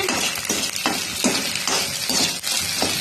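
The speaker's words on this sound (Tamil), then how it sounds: "முட்டை பொரியல் இது" Egg frying in a pan for homemade fried noodles, a steady broadband sizzle with periodic scraping strokes of a spatula roughly every half second, close and fairly loud, with no voices.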